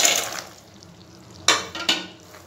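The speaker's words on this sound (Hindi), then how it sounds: "और इसको चाशनी में अच्छे से मिक्स कर लें।" Shakarpare being stirred into sugar syrup in a pan, a soft sticky swish at the start followed by two sharper scraping strokes of the spoon against the pan, close and moderately loud.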